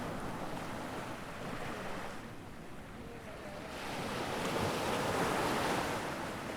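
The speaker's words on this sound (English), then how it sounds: "I really like the realism of the waves." Ocean waves in the video game Dagon surge and wash in a continuous broadband roar, swelling louder in the second half with a windy, open-water character.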